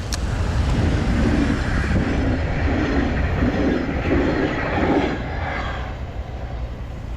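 A train rolls past a barrier-controlled level crossing on a snowy day, a loud, steady rumble with rhythmic clattering of wheels that fades slightly toward the end, with no talk.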